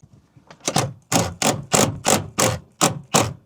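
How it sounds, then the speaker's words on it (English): Spare wheel of a Ford Transit Custom van being lowered from underneath with a 1/2 inch drive, giving about eight evenly spaced, fairly loud mechanical clunks in a steady rhythm, with no talking. "Hopefully my spare wheel is dropping."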